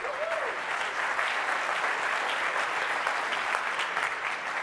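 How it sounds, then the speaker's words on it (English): A large audience at a Microsoft developer conference session applauds, a dense, even wash of many hands clapping that holds steady throughout, with no speech over it. "I think I just got more applause than you did"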